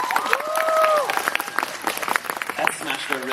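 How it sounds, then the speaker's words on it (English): A live audience applauds to welcome a guest onto the stage at the SMASH 2016 event in Sydney, a steady wash of clapping with scattered cheers while a host speaks over it. "Sydney, give her a big round of applause."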